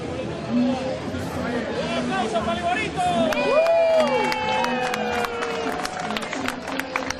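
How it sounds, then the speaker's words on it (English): A crowd at an outdoor world-record pupusa event claps and cheers for a mascot, with lively chatter, shouts and loud voices mixing over scattered clapping throughout. "Right now they're clapping to the Laborio mascot."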